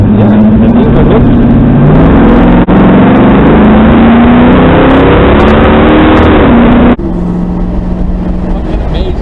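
A 1970 Chevrolet Camaro accelerating hard, its engine roaring loud and close with the pitch climbing steadily, a brief dip partway through, then dropping back to a lower drone.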